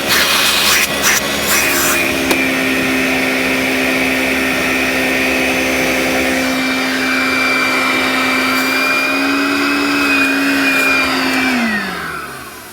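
A 1983 Moulinex Major 553 vintage vacuum cleaner running for a suction check, a loud steady motor whine held for several seconds before it winds down and falls in pitch as it switches off, no talk.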